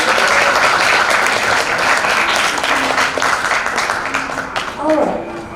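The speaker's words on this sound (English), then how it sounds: "please applause to Group 15" An audience at a youth festival business idea competition applauds a competing group, a dense, loud burst of many hands clapping together that gradually thins and fades, with a voice speaking over the end.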